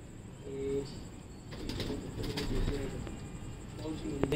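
Pigeons give low, soft coos in short bursts near the start and again at the end, over steady background noise, with people talking nearby while pigeons are being caught.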